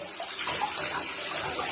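Running water splashes over an animal being washed of dirt in a bath, a steady close pour from the tap with a brief brighter splash partway through and no speech.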